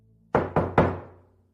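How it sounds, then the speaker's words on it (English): Three loud, close knocks on a door in quick succession, each sharp thud ringing briefly before the next. "calculating my profit from the Carters, when there was a loud knock"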